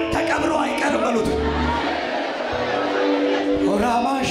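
A church congregation fills the space with loud crowd noise, high wavering ululation cries rising over dense babble, with voices shouting throughout.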